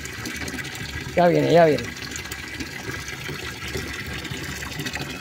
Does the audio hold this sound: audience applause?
no